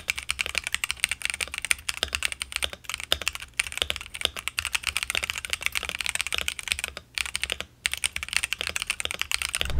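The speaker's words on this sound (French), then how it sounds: "c'est le son d'un clavier gamer" Typing on an Asus ROG Azoth gaming keyboard: a quick, uneven stream of crisp keystroke clicks close to the microphone, with only brief pauses and no talking.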